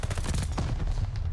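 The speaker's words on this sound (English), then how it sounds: "A hail of gunfire rips him to pieces" Rapid automatic gunfire rattles in a continuous burst from a Call of Duty match, a dense string of closely spaced shots with one sharper crack midway, loud and unbroken.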